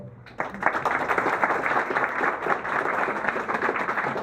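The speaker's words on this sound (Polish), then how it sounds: "Także wielkie brawa." Applause at a Polish charity running event wrap-up, a crowd clapping steadily and briskly right after a brief voice, dense and sustained to the end.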